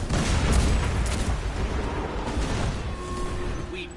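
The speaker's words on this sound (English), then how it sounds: "I thought I heard an explosion." A walker exploding in the video game Destiny 2, a loud rumbling blast with crackling debris that stays heavy for the first second and then settles into a continuing low roar.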